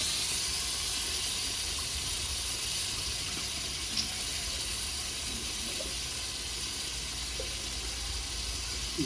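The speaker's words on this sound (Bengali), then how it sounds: "বাটি দিয়ে জলটাও দিয়ে দেবো" Water is poured from a bowl into a cooking pan holding mustard-poppy paste and spices for a mango sole fish curry, a steady hissing, gurgling pour lasting several seconds with no talking.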